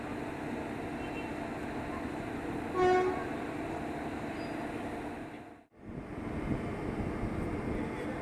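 Train at Tiruchirappalli Junction during a locomotive change, a steady rumble of the station and idling rail equipment with a short horn toot about a third of the way in and a brief dip in the noise.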